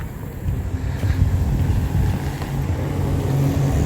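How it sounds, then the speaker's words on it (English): Cars rolling across a noisy metal bridge at a historic park, a rumbling low traffic drone with wind buffeting the microphone, swelling as vehicles pass close by. "This bridge makes way too much noise. Not just the cars going over it, but the metal clanking"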